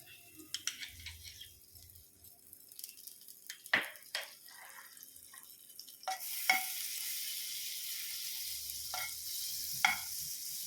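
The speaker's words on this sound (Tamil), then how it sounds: "கடாய் சூடாகட்டும். அதில் கொஞ்சம் வெண்ணெய் போடுறேன்." Butter melting in a hot kadai for restaurant-style dry chilli chicken, soft intermittent crackles and pops at first, building after a few seconds into a steady, fairly quiet sizzle with occasional sharper spits.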